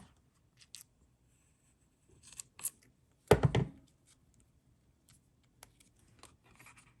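Scissors snip through paper while a circle is cut out, giving a few quiet, scattered cuts and rustles, then one short, louder crunching snip, then faint handling noises in an otherwise quiet room with no voices.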